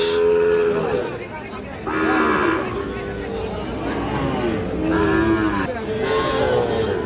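Loud, drawn-out moos from Sahiwal bull calves close by, repeated several times over a murmur of people and animals at a busy livestock market in Parbatipur, Dinajpur.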